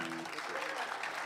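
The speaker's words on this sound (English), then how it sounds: "Put your hands together and a loud applause for Shawn Lane and Richard Bennett" A bluegrass festival audience gives a brief burst of steady, dense applause, a wash of many hands clapping at a distance, with a voice heard briefly at the start.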